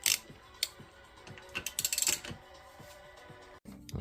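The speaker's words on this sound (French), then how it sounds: "il va falloir une longue BTR de 10 pour pouvoir aller à travers le fourreau" Long 10 mm hex key loosening the piston screw inside the fork tube of a Kawasaki ZZR 1200, giving a run of close, quick metallic ratcheting clicks with scattered sharper taps, followed by a brief pause.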